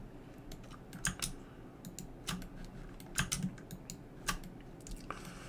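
A computer keyboard is typed on close by in short irregular bursts of clicky key presses with brief pauses between, quiet and alone without talk.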